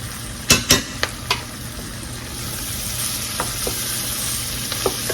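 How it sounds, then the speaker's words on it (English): Flour and vegetables cook in pan grease for smothered pork chops, a steady close sizzle broken by sharp scrapes and clinks of a utensil stirring against the pan. "we're gonna let this flour cook a couple of minutes right along with these vegetables"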